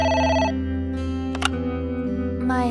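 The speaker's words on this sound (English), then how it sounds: "It's the phone. Maybe try picking it up?" A telephone rings in a diner scene with a steady electronic ringtone tone over a low background hum, one ring cycle followed by short clicks.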